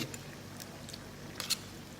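Soft chewing and biting on tough free-range village chicken eaten with Thai green curry over rice noodles, close to the mouth, with a few faint squishy bites and no talk.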